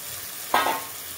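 Meat dropped into a pan of hot oil gives a sudden burst of sizzling that swells, then eases into a steady fry, loud and close with no talking.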